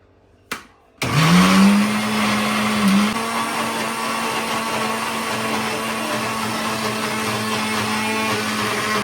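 A mixer grinder starts up with a click and whirs loudly and steadily while grinding ingredients with a little water into a paste, its motor pitch rising and settling into a continuous blending roar.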